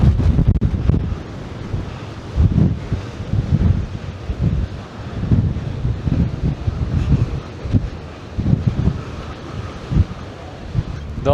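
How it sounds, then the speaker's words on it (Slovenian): Strong gusting wind buffets the microphone on a 2228 m summit on Čvrsnica mountain in Bosnia, a loud, continuous rumbling roar with surging gusts and no speech. "Piha pa kar dober."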